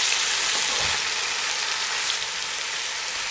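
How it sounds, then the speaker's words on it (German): Leek and chopped garlic fry in a Dutch oven, a dense continuous hiss and sizzle heard close up, steady and without speech. "Der Lauch kommt dazu, dann der klein gehackte Knoblauch, alles ein bisschen vermischen."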